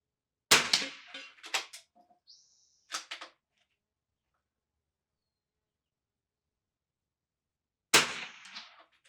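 A .22 rifle fires at a steel target on an NRL22 match range, giving a few sharp cracks and clangs in the first few seconds, then quiet, then another sharp report near the end.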